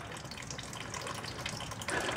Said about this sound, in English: Okay, so we got the coolant draining.